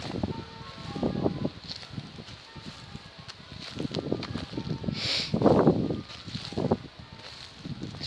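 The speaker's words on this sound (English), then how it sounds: "This wind is making my nose run" Gusty wind on open Swanscombe Marshes buffets the microphone in uneven surges, rising and falling with a low rumble and rustle, with no voices.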